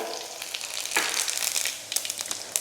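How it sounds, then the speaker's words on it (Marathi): Mustard seeds splutter and pop in hot oil for a tempering, a close, busy crackle of sharp snaps over a soft sizzling hiss. "मोहरी टाकल्या टाकल्या अशी मस्त तडतडली पाहिजे"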